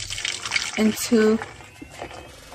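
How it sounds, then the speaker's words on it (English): Chocoflan flan mixture pours through a strainer in a kitchen, with soft liquid trickles and drips in short bursts, and a voice talks alongside. "So I'm going to go ahead and strain my flan mixture"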